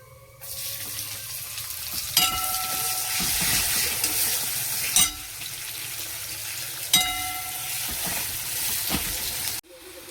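Chopped onion sizzles steadily as it fries in a pan, a broad continuous hiss with a few sharp clinks of a utensil against the pan, close and fairly loud throughout, ending abruptly.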